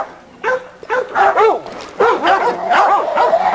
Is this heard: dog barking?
yes